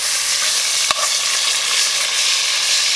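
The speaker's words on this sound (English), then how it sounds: "we got a pretty good sear going on that" Food searing in a hot pan at a campfire cookout of trail beans and gunpowder biscuits, a loud, steady hissing sizzle throughout with one sharp tap near the start.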